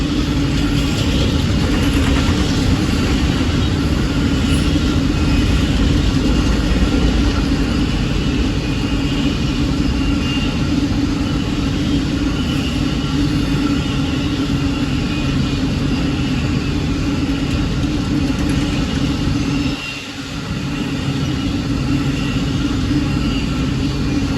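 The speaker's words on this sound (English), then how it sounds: "Amtrak 53 rolls southbound with a Charger leading another Dash 8W" Amtrak 53, a passenger train, rolls southbound on CSX's RF&P line in Spotsylvania behind a Charger locomotive leading Dash 8W No. 511, built in 1991. A loud, steady rumble fills the whole stretch, dipping briefly near the end.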